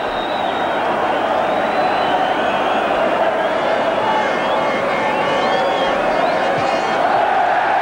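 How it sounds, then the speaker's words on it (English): Dense football crowd noise at a 1981 League Cup fourth-round match between Barnsley and Manchester City, a steady loud roar of applause and murmuring with scattered whistles and shouts throughout. "Crowd applauding the back pass."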